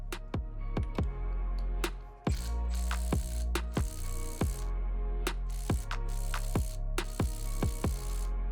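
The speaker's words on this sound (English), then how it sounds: "now I'm going to tighten using the Milwaukee and see if the Ryobi will be able to remove it" A Milwaukee brushless impact driver tightens a bolt: a loud, close motor whine carries repeated sharp hammering knocks, with a brief dip in the whine around the second mark before the knocking resumes.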